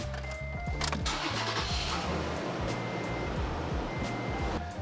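A Toyota Tacoma truck engine cranks and catches, then settles into a steady, close, loud idle with a continuous mid-low rumble and faint high whine from the pulleys.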